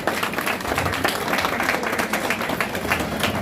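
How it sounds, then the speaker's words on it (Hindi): Steady, dense clapping from an audience at a Goswami Tulsidas Jayanti celebration held by the Manas Prayas organisation in Thane, Maharashtra, filling the whole stretch at an even level with no break. "तालियां बजनी चाहिए भाई।"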